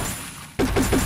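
Burst of gunfire in Garena Free Fire from an M4A1 rifle during a solo-versus-squad fight: a sudden loud onset after a quiet lull, then rapid repeated shots in a steady rhythm, close and dominant.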